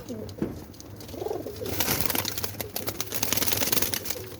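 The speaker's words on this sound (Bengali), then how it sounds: "আর এদিকটা আছে বড় কবুতর" Pigeons, both young and adult, coo softly nearby, low throaty calls repeating, while scratchy rustling and shuffling noises grow busier in the background.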